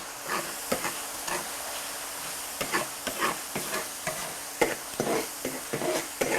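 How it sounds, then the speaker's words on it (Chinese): Doubanjiang and chili sauce stir-fried in oil with ginger, garlic, dried chilies and Sichuan peppercorns for Sichuan minced pork, a steady close sizzle broken by repeated scraping spatula strokes, with no talking. "放点豆瓣酱，放点香辣酱，给它炒出红油来"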